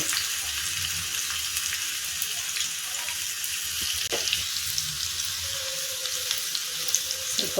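Crushed garlic frying in oil for a tempering, a steady hissing sizzle with occasional soft pops and a brief clink, close and unbroken with no voices.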